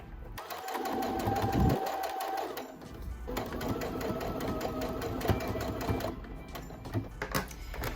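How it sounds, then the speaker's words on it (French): A domestic sewing machine runs long, even stitching passes along the fabric of a drawstring pouch, its motor whirring close and loud with brief pauses between runs. "je baisse le pied et je vais coudre tout le long"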